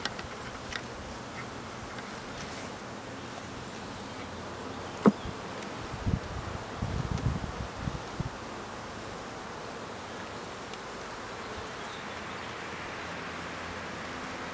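Honey bees buzz softly around an open hive, a faint, constant hum with a few brief knocks and rustles near the middle.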